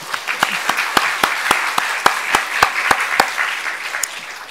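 An audience at an education-office briefing on college admissions and personal-statement writing bursts into loud, sustained applause, with distinct claps standing out over the crowd for several seconds.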